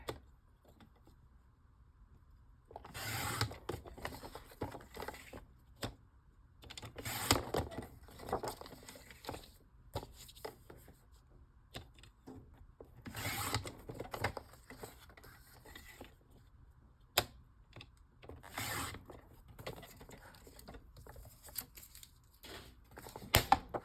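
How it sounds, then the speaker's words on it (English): Paper being trimmed with scissors, cutting the white border off a junk journal lining: bursts of crisp snipping and rustling in several groups, with quiet gaps between them, close by and with no talk. "Go ahead and trim off this white border on the lining."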